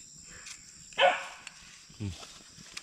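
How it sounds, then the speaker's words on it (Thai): A dog barks at a snake outdoors, giving two short, sharp barks about a second apart, fairly close and loud over faint background noise. "มันยังเห่างู"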